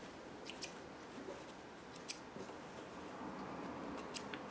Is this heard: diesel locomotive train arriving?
no